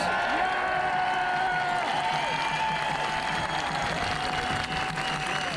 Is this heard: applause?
yes